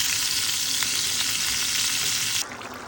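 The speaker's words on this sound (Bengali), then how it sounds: "আলুগুলো পাশ ওপাশ করে সুন্দর করে ভেজে নিচ্ছি" Potato pieces fry in hot oil for a beef curry, making a dense, close sizzle that suddenly drops quieter near the end, with no speech.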